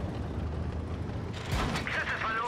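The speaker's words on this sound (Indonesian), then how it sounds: "ada yang nembakin kita" Tank cannon fire and clanking mechanisms in World of Tanks Blitz, a steady mechanical rumble broken by a sharp burst of impacts near the middle, with someone speaking briefly over it.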